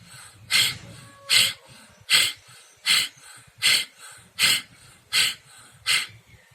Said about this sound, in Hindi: तो इसे भस्त्रिका प्राणायाम बोलते हैं।